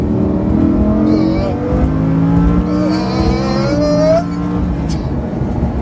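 A Lamborghini Huracan's big engine with a double-clutch gearbox revs loudly up toward 5,000–6,000 rpm, its pitch climbing and easing in steady sweeps, close and sustained for several seconds.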